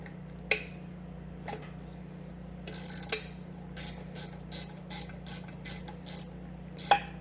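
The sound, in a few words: wrench loosening a nut on a rusty Singer 66 sewing machine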